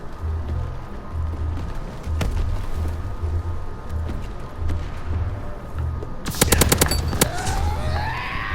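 Gunfire in Call of Duty, shooting at a planted bomb: a quick burst of loud close shots near the end, over a steady low game rumble and distant engine hum.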